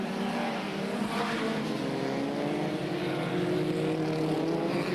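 Superstox stock cars racing in the 1970s, a dense steady drone of several engines held at a distance, rising and falling slightly with no voices over it.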